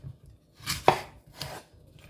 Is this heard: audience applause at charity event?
no